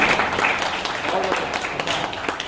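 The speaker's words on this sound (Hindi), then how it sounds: "अर्चना जी का रोल आपको कैसा लगा, आपकी तालियां बताएंगी।" Audience applause for a performer's role at a convention hall gathering, a steady wash of crowd clapping throughout, with talk mixed in underneath.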